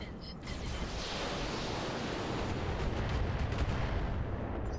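Mech weapons fire in the video game Roguetech, a dense, continuous roar of blasts and rumbling impacts that fills the whole stretch at fairly even loudness.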